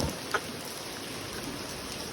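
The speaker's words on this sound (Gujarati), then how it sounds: "લાઈવ વરસાદ લાઈવ" Steady rain hisses softly and evenly, with no voices over it.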